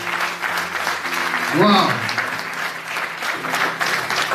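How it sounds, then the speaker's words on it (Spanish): Congregation applause at an Easter Sunday church service, steady clapping under a voice exclaiming briefly. "Denle un aplauso a Cristo."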